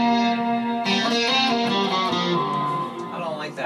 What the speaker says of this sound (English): I want to switch the reverb to, let's go for a Terra Echo.